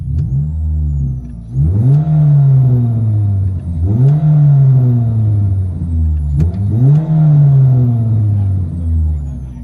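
From inside a 2009 Chevy Cobalt 2.2L fitted with an HKS muffler, the exhaust swells through three loud climbing revs, each dropping back to a droning hum, with the engine note close and full.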